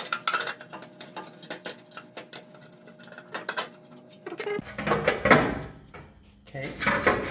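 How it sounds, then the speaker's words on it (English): A transmission oil pan is worked loose from a 2001 Ford Ranger, producing metallic clinks, scrapes and rattles at close range between spoken comments, with a louder clattering burst toward the end. "now you're ready to remove the pan"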